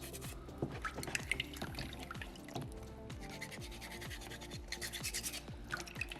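Sandpaper rubs against a small soapstone orca carving in quick, close back-and-forth strokes, a dry rasping that repeats steadily throughout at a soft level.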